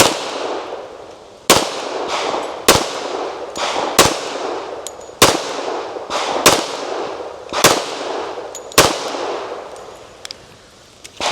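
A Tisas Raider 1911 pistol firing at an outdoor range, with ten loud, sharp shots spaced roughly a second apart, each followed by a short echoing decay, and no talking.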